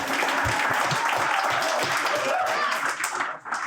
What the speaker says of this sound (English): a big applause for yourselves too